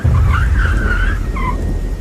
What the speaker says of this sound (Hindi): पर तभी मुझे अपने पीछे गाड़ी के ब्रेक की आवाज़ सुनाई पड़ी।